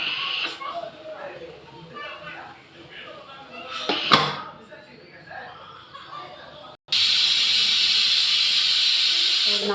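A pressure cooker on a home stove, cooking sambar, lets out a loud steady hiss of steam that starts abruptly near the end and continues, after a stretch of quieter kitchen sounds with a few brief knocks.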